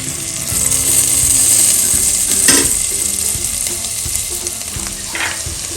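Ground garlic paste frying in oil in a pan for butter chicken, a steady close sizzle with a brief louder burst as the paste hits the hot oil, then settling into continuous crackling with light stirring.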